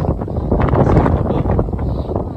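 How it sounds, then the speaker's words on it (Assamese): Strong wind on Tumjang Peak in Assam buffets the microphone with a loud, close, low rumbling roar that surges and eases in quick gusts. "বহুত বতাহ আহি আছে"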